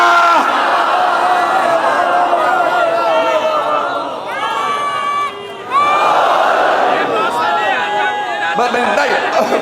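A large crowd at a Shia religious majlis honoring Imam Ali roars slogans in loud, sustained collective chanting, with voices rising and falling in repeated swells and a brief dip partway through before surging again.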